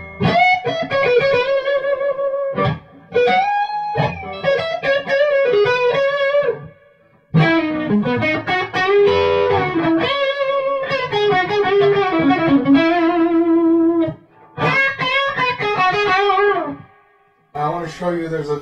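An electric guitar plays through a Traynor YGL2 amplifier set for a bluesy classic rock tone, with loud, slightly driven riffs and sustained bends in phrases separated by short pauses.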